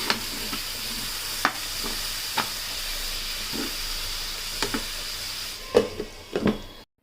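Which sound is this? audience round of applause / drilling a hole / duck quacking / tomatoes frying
tomatoes frying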